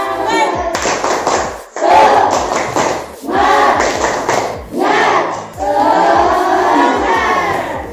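A class of students chants in unison and claps in rhythmic bursts, four loud group rounds of clapping and shouting, close and energetic.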